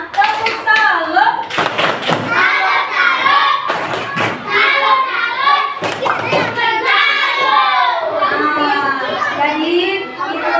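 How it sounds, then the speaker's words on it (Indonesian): Children in a classroom perform the rhythmic 'tepuk salut' clapping chant, sharp group claps in bursts between sung and shouted voices, loud and close. "Oke, tepuk salut untuk semua."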